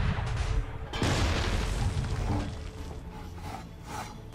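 A cannon fires in Assassin's Creed III during the Tyranny of King Washington content: one loud, close blast about a second in, followed by a rolling, fading rumble, with faint game ambience after.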